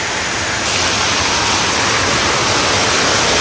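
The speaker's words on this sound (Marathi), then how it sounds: "खूप पाऊस आहे आणि खूप जोरदार पाऊस पडतोय बघता." Heavy monsoon rain pours down in a village, a loud, dense, unbroken roar of falling water that fills the whole moment.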